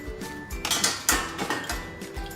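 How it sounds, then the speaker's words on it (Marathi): A metal plate set into a cooking pot for chicken dum biryani, then hot charcoal dropped in, giving a run of close, bright clinks and clatters of metal on metal, fairly quiet and with no talk. "आपल्या टोपामध्ये एक प्लेट ठेवणार आहोत आणि त्याच्यामध्ये हा गरम केलेला कोळसा टाकणार आहोत"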